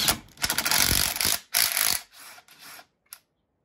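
A ratchet with a 1/2-inch socket loosens a bolt on a 2023 Can-Am Commander. It gives several loud, close bursts of clicking, then fainter, shorter clicks with gaps between them.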